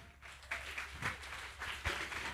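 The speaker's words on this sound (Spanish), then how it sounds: "Quique, un aplauso para la nación de Guatemala." An audience claps for the nation of Guatemala, a steady wash of applause with a few louder swells, mid-distance and filling the room.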